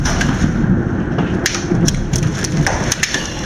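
Large hailstones pelt a house during a June hailstorm in Mascoutah, Illinois, a loud continuous rattling roar with sharp, irregular cracks of individual stones striking close by.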